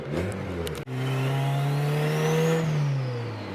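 A fully built turbocharged car engine of about 500 hp revs up steadily after a brief cut, pitch climbing into a sustained, loud drone with a faint turbo whine rising above it, then easing slightly.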